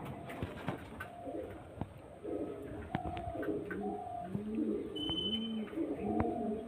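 Several Chennai breed pigeons coo close by in soft, overlapping, repeated throaty calls, with no talking.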